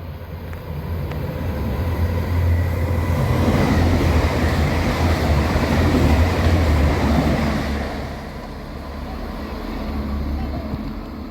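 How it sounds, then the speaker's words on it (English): A TransPennine Express train from Manchester Airport to Hull approaches through Crossgates station, a loud rumbling roar that builds, peaks mid-pass and eases slightly toward the end. "And now approaching is the Manchester Airport to Hull TransPennine Express service."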